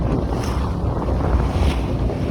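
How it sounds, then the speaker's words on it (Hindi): Boat ride across Attabad Lake in Hunza, with a steady roar of cold wind buffeting the microphone over the hum of the boat and the wash of water, continuous and with no voices. "ठंडा ठंडा पानी और बहुत मज़े की ठंडी हवाएं चल रही हैं"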